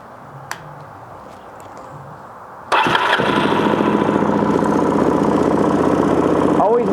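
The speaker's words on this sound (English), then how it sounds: "I know the engine's running about 1900 right now, which is very good for this bike." A Gen II four-stroke motorcycle engine idles steadily at about 1900 rpm during carburetor idle-screw tuning, starting abruptly after a quiet lead-in and running as a loud, even rumble with a faint click just before.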